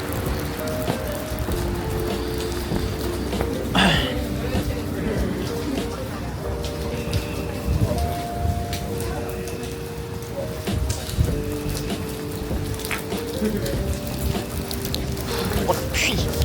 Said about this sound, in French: Oh la pluie.